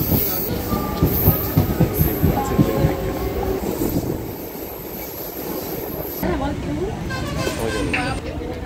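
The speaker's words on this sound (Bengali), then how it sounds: "ট্রেন ঢুকছে নৈহাটি স্টেশনে।" Passenger train pulling into Naihati junction station in West Bengal, heard from on board as a loud rattling rumble of wheels and carriages that eases and resumes, with voices talking over it.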